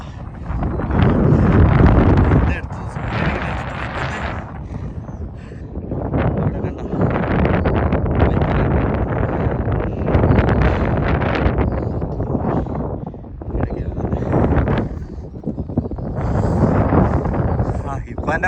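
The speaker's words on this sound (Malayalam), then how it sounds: "ഭയങ്കര കാറ്റാണ്." Strong wind gusts across a high viewpoint in Saudi Arabia, rough buffeting and roaring in uneven waves against the microphone, while a person talks through it.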